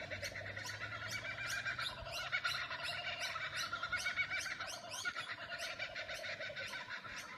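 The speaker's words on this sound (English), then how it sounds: "The kookaburras. They start very early. They start before it's daybreak." Kookaburras call in the early morning before daybreak, a steady run of repeated cackling notes that sounds fairly distant and soft, with no voices.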